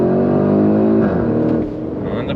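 Porsche Cayenne Turbo e-Hybrid SUV (2024) accelerating hard on throttle, its engine note rising loudly and steadily up close, with a harmonic drone that shifts pitch midway as it keeps pulling.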